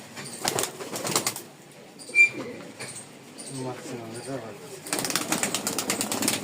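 Giribaz pigeons coo in short bursts amid scattered wing flaps, with someone talking nearby and rustling crowding the start and end.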